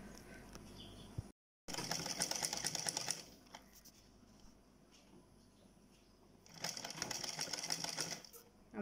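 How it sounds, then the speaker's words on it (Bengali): A sewing machine stitches pleats into a small child's dress in two close, rapid whirring runs separated by a quieter pause, with faint handling noises in between. "এই যে আমি কিভাবে সেলাই করি, কুচিগুলো দিতেছি"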